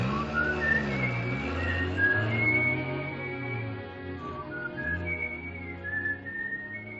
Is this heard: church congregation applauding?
no